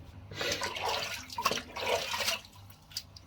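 Tap water runs and splashes in two close bursts as a face is wetted before a shave, separated by a short pause, with faint drips after; fairly quiet and no talking.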